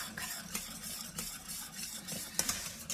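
A spoon scrapes around the bottom of a pot of custard mixture for melktert in regular strokes, quiet and repetitive, with faint clinks of metal now and then.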